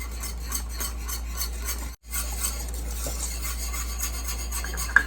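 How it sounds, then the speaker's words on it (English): Plantain empanada dough being stirred in a bowl with cornstarch added, a continuous quiet scraping and rubbing with a brief pause and a faint clink near the end. "And you just start mixing. Keep mixing. Don't stop the mixing."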